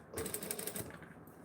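A sewing machine stitches a towel topper in a short, steady mechanical whirring run of rapid needle strokes that lasts under a second before easing off, quiet and close.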